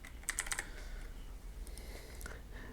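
Quick burst of computer keyboard typing on a PC, a few crisp close key clicks at the start followed by scattered faint taps over a low background hum, no talking.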